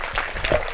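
An audience at a poetry gathering claps together in a short, dense burst of applause that lasts under a second.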